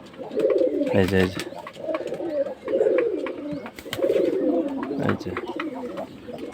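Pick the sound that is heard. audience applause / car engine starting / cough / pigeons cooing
pigeons cooing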